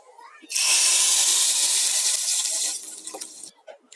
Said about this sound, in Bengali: এখন আমি এই তেল আর রসুনগুলো দিয়ে দিব সে ডাল আর পুঁই বিচির মধ্যে।